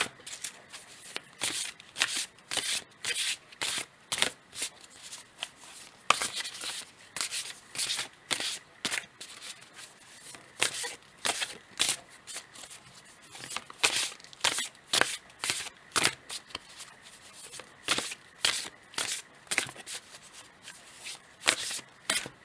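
Éclore oracle cards by Magali Caso being shuffled by hand, a close, steady run of crisp riffling bursts and soft card slaps with short pauses between, no voices.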